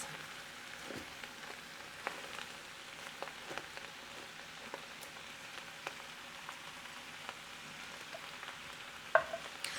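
Chicken and vegetables stir-fry in a pan for a chow mein or chop suey dish, giving a soft, steady sizzle with occasional faint clicks and scrapes of stirring.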